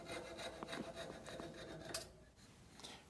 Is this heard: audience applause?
no